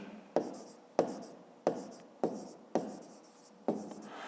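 A pen writing by hand on paper during a 5th-grade maths exercise, six distinct strokes each starting with a sharp tap and trailing off, evenly spaced, close and quiet.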